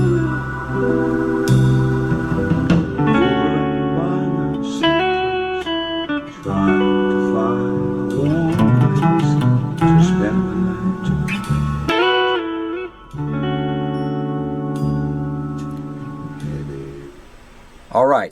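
A verse riff from a song played on electric guitar, with flowing chord fills and bluesy picked lines over a steady groove, full and close.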